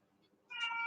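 A house cat gives a single short meow that starts abruptly after a near-silent pause, faint and nearby in a kitchen.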